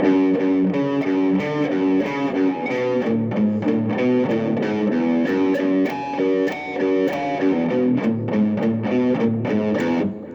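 A distorted electric guitar plays a riff slowly, repeated chords and single notes, steady and loud, with no voices.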